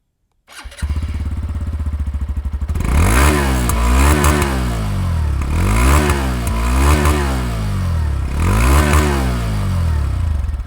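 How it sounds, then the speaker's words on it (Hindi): A Hero Glamour X 125 motorcycle starts up close by, settles into a steady, throbbing idle, then gets blipped through several loud, rising and falling revs of its exhaust note. "आपको इसका एग्जॉस्ट नोट सुनाता हूँ"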